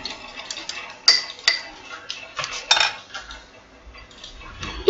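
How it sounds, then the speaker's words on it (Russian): A soap mixture is stirred in a container, the utensil tapping and clinking against the sides in quick irregular strokes, close and distinct with no voices. "Еще раз все перемешиваем."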